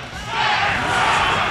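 Roaring, sustained cheer from a tournament crowd at the Combo Breaker 2023 Guilty Gear Strive Top 8 finals, swelling louder after a brief moment and holding steady as a dense wall of voices.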